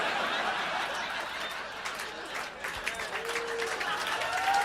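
Comedy club audience applauding after a Mitch Hedberg joke, a dense steady wash of clapping with a few chuckles mixed in, continuous and fairly close throughout.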